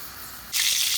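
Ground paste for a keema and fenugreek leaf dish drops into hot oil and bursts into a loud, steady sizzle, bright and close after a quieter moment of low crackle.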